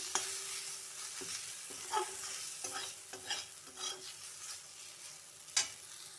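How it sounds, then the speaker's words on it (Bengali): A spatula scrapes and stirs through eggplant and neem leaves in a pan with soft rhythmic strokes over a low, steady sizzle of frying oil. "এবার এই বেগুনের মধ্যে আমি নিম পাতাগুলোকে অ্যাড করে দেবো আবারও বেশ কিছুক্ষণ নাড়িয়ে নেব"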